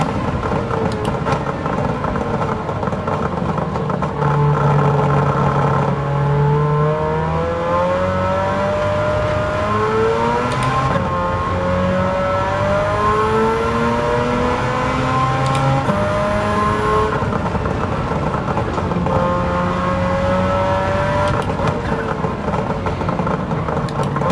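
A 1991 Suzuki Cappuccino fitted with a 13B rotary engine in Gran Turismo 7 at Kyoto Circuit: a loud, buzzy rotary note rising and falling through repeated gear changes, revving continuously throughout, with no talk.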